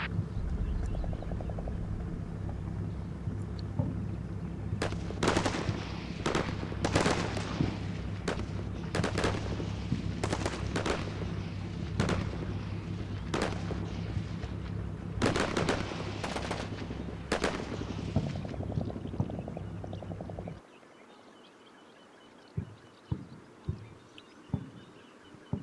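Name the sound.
howitzer artillery fire mission in video game Combat Mission Shock Force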